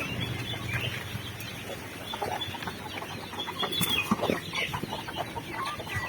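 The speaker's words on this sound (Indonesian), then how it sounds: "Jadi ini tadi ayam-ayamnya sebelum dikasih pakan ini" Chickens raised on homemade feed without factory pellets, clucking continuously before feeding, several birds heard close by over a steady background hum.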